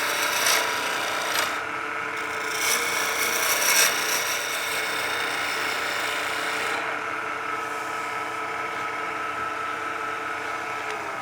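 A wood lathe spins as a tool shapes a pizza cutter handle, giving a steady raspy scraping hiss with a few harsher bursts of cutting early on, close and continuous.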